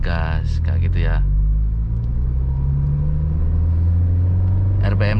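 A manual car pulls away from a stop as the engine accelerates, a deep, steady rumble that builds gradually. A person talks briefly at the start and again at the end.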